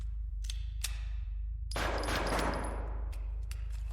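Game gunfire in the shooter prototype Deppart: a few sharp clicks and shots, then a dense burst of rapid fire over a steady low background hum.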